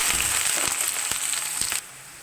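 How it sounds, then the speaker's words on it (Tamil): Sliced large onion with green and dried red chilies sizzles in hot oil for about two seconds, a loud bright hiss with a few sharp crackles, before the frying noise drops off abruptly. "எடுத்து வச்ச பெரிய வெங்காயம் பச்சை மிளகா வரமிளகா எல்லாம் போட்டுடலாம்"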